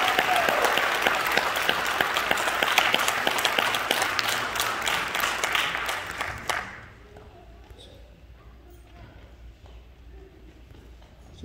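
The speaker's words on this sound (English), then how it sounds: "Ladies and gentlemen, a round of applause for all the NJROTC cadets presented here." An audience at a high school NJROTC change of command and award ceremony gives a loud round of applause for the cadets. The clapping is dense and sustained for about six seconds, then stops abruptly, leaving quiet room tone.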